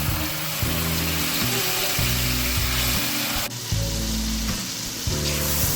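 Chopped tomatoes hit a pan of softened onions for a chicken curry, setting off a loud, steady sizzle of frying with brief stirring scrapes, close up and continuous, no voices.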